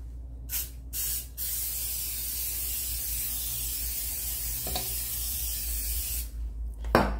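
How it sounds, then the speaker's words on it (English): Cooking spray hisses from an aerosol can in a long, steady burst, with a few short sprays and light clinks nearby. "I'm going to spray my pan."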